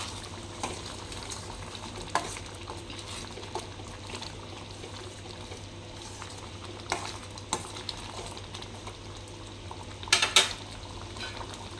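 Spoon stirring tomato egg curry in a pan after coriander powder goes in, soft scraping and light clinks over a steady low simmer, with a brief louder clatter of utensil against pan near the end.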